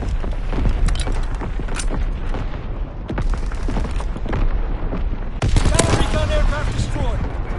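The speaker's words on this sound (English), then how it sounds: "Incoming enemy artillery." Enemy artillery and gunfire in Call of Duty WWII, loud booms and sharp bursts of shots hitting irregularly, with a heavier blast near the end over a rumbling, chaotic battlefield.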